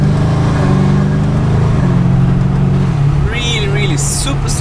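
2018 BMW M5 F90 in Sport Plus mode accelerating hard from inside the cabin, loud steady engine drone climbing in pitch with quick gear changes, a rising whine near the end.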